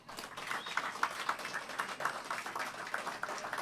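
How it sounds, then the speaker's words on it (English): Applause from a seated audience honouring a veteran's widow at an evening event, steady and fairly faint, continuing for several seconds. "let's give her a big applause"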